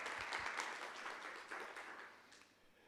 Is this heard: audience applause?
yes